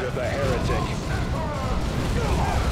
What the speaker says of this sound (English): Fire the rockets.